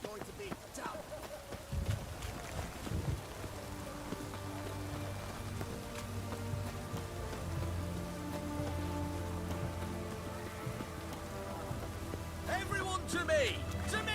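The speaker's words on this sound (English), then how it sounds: "It's raining" Steady rain patters through a rainy scene in The Witcher 3, a constant wash under game music and a voice talking, with occasional louder splashes and clatter near the end.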